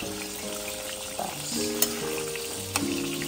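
Eggplant (brinjal) slices sizzle steadily in hot oil in a home kitchen with a soft constant crackle, while a faint melody plays and occasional clinks sound.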